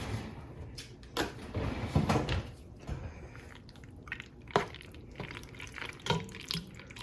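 A spoon stirs a pot of Velveeta Original macaroni shells in thick cheese sauce, making wet, squelching, scraping sounds in uneven bursts close up, with no voice.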